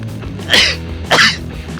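Two loud, close sneezes, about half a second apart, burst out inside a Chevrolet Onix Activ 2019 automatic compact car, over a low, steady cabin hum.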